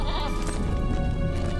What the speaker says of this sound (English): So let's go ahead and get on our goat here, Remy,